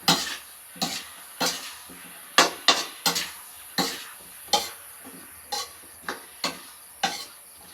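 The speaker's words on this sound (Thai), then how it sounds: "จากนั้นเราก็จะผัด แล้วก็รอให้ผักสุก" Pesticide-free vegetables stir-fried in a pan give a series of sharp, evenly spaced scraping strokes of a utensil against the pan over a faint sizzle, with no talking.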